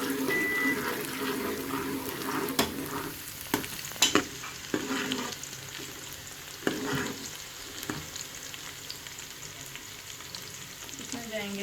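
Onion and chopped garlic sauté in a pan for an aloo baingan sabzi, a steady close sizzle and crackle with a few louder clatters of stirring.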